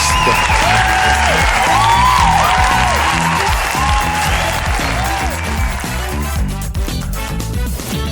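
Loud audience applause and cheering for a francophone comedy podcast, with bright whoops and tonal music-like swells riding over continuous clapping.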